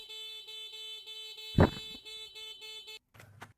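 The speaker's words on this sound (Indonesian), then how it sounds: "Klakson lagi." A car horn blares once in a short burst over a steady electronic hum, then the background cuts out briefly.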